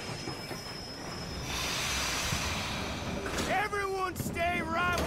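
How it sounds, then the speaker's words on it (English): In Red Dead Redemption 2, a steam train pulls into a station: a rising rumble of rolling cars, then sharp metallic wheel squeals and screeches as it brakes, fairly loud and close. "Train's coming in."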